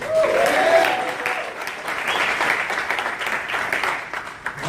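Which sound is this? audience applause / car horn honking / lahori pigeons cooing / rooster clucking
audience applause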